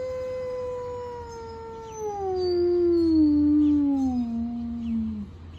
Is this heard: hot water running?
no